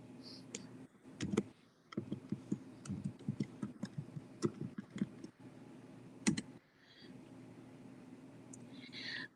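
Keys on a computer keyboard tapped in quick, uneven bursts of light clicks, fairly close and moderately quiet over a low background hum, with a few louder single strikes.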